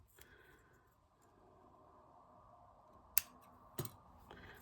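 Scissors cut a piece of material in half, giving a couple of sharp, quiet snips close by in an otherwise hushed room.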